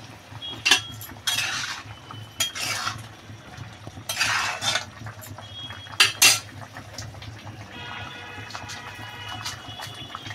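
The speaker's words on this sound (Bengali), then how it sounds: "একটু কাঁচা লঙ্কা চিড়ে দেবো।" A knife slitting green chillies in a kitchen while a chicken-egg curry with potato and aubergine cooks, heard as several sharp metallic clinks and scrapes in quick irregular bursts, close and fairly loud, with no talk.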